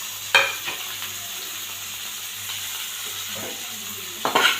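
Onion with salt, turmeric and spices fries for a teasel gourd and potato dish, a steady sizzle with a low hum underneath and a few scraping stirs near the start and end.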